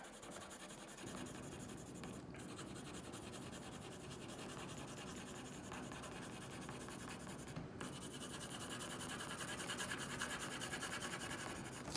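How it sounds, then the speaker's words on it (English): A blue colored pencil scratches and rubs across paper in steady, continuous strokes, coloring raindrops and a puddle, a close, soft rasping texture that persists evenly with no talk. "grab my colored pencil, my blue colored pencil, and add some color to the raindrops"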